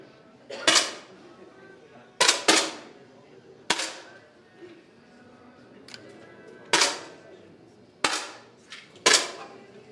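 Sharp single shots in a youth rifle gold-medal match between Hungary and Serbia, about seven reports spread irregularly over ten seconds, each a crisp crack with a short ringing tail, fairly close, with faint room noise between.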